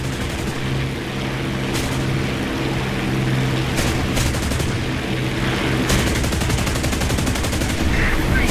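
Rapid aircraft machine gun fire in the War Thunder video game, loud sustained bursts over engine drone with a few sharp breaks, no voices.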